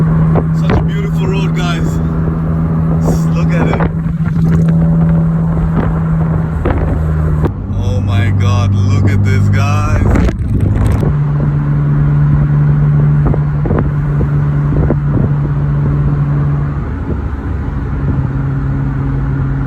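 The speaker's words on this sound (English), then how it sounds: "This little Z3 is just cruising down the road." A BMW Z3 sports car cruises down the road, its engine droning steadily under loud wind rush, with shifts in engine pitch partway through.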